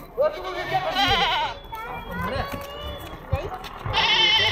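A goat bleats loudly and nearby in wavering, quavering cries, two long bleats separated by a shorter one, with people talking in the background between calls.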